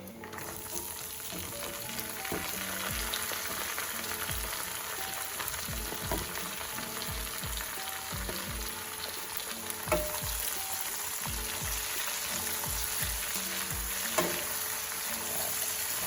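Cabbage frying in a pan with bacon, onions and garlic gives a constant close sizzle, broken by repeated scraping and clinking as it is stirred.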